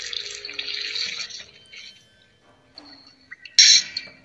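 Water hissing from a valve in the horror game Apeirophobia, a loud rushing spray at first that thins out, then a few faint clicks and a sharp burst of gushing near the end.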